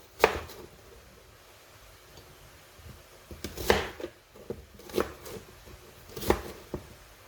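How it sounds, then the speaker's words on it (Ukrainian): Sharp knife chops through onion on a cutting board, a few scattered strikes then a quicker run of cuts, fairly faint against quiet room noise. "нарізаю цибулинки на кусочки"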